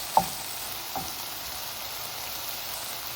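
Ground meat for cottage pie fries in a pan, giving a steady, close sizzle throughout, with a couple of brief stirring scrapes near the start.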